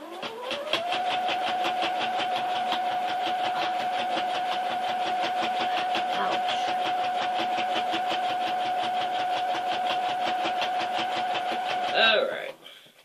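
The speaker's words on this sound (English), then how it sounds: "let's sew that out the way that it needs to go" Sewing machine running steadily while stitching a seam on a pair of pants, a continuous rapid mechanical hum with fine rhythmic pulses for about eleven seconds before slowing to a stop.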